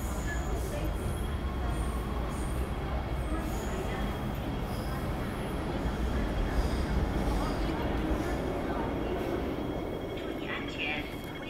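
A Hong Kong MTR train on the Tseung Kwan O line rumbles steadily through a station, with continuous low mechanical noise and a faint high squeal near the end, under background voices.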